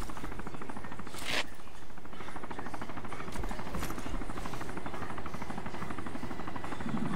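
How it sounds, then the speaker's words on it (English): Helicopter in the DayZ video game passes overhead, a loud continuous rotor thrum with rapid blade chop filling the scene, steady throughout with a brief sharp burst early on. "Helicopter. Heli, heli,"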